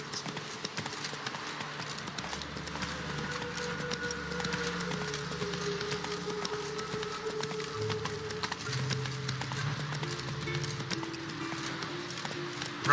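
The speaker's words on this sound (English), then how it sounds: "Run, Roach" Galloping horse hooves in The Witcher 3 keep a steady clip-clop rhythm at moderate level over a background of game music and ambience.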